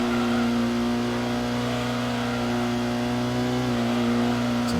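Steady car engine drone in the PlayStation racing game Gran Turismo during a B license test, holding an even mid-revs tone with a slight throttle lift and dip near the end, loud and continuous with no voices.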